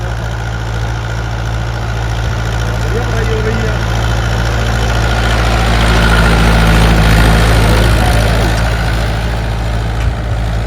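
A Mahindra 585 DI tractor engine runs at a steady low diesel throb close by in the field, swelling slightly midway, while someone talks over it.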